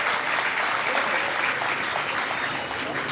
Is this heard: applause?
yes